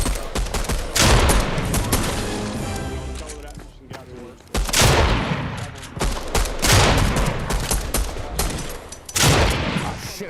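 Sustained gunfire in the video game Apex Legends, loud dense bursts of rapid shots that keep going with brief gaps, close and dominating.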